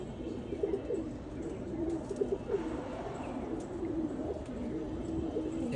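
Caged pigeons coo steadily in low, rolling murmurs, with a sparrow among them, a continuous soft burble close by with no talking.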